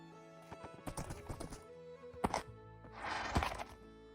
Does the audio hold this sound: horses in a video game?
yes